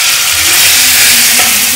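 Okra chutney (bhendi thecha) fries in half a spoon of hot oil in a pan, giving a steady, close, even sizzle with no pauses.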